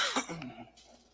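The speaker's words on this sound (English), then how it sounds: "Stop coughing" Coughing from a person at a casual indoor hangout, a short burst of a couple of rough coughs fading into a quieter throat rasp, close and without other talk.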